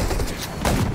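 Shotgun blasts aimed at zombies in the mobile zombie game Undawn, two loud close reports about half a second apart over dense background game noise.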